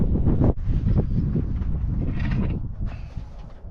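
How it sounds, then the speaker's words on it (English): Gusty outdoor wind buffets the microphone in loud low rumbling bursts that rise and fall throughout, with no clear voice above it. "Wind's shutting off my voice a little bit"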